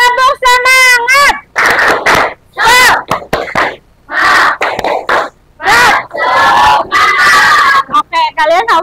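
Students in a classroom perform the "tepuk semangat" clapping chant, with loud rhythmic bursts of claps and shouted chanting voices alternating with short pauses.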